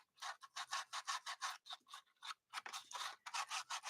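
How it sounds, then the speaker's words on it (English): Plastic sheeting rattles and crinkles on a desk in quick, rhythmic rustling bursts, close and crisp, with a short pause midway before the rattling picks up again. "Like the rattling of that plastic paper."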